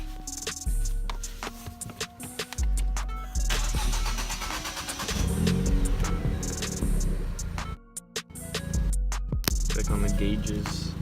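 A Ford Fiesta ST or Focus ST cranks and fires up, then settles into a rumbling idle with a few revs and brief cutouts. The engine is heard close, with people talking over it.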